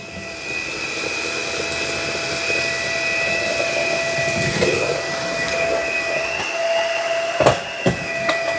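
Bissell FurFinder vacuum cleaner running on its low setting, a steady whirring hum with a high whine, moderately loud and close, with a few knocks near the end as it rolls.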